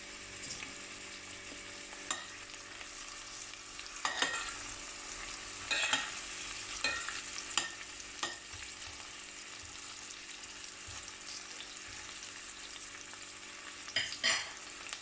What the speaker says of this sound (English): we're just gonna add in our onions. And we're going to let that cook until it softens